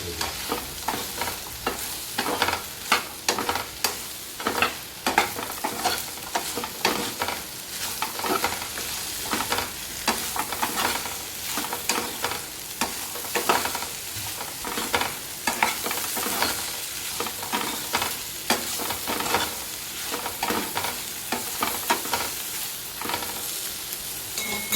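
Okra frying in a pan over a low flame, a steady close sizzle with frequent scraping stir strokes throughout, no voices.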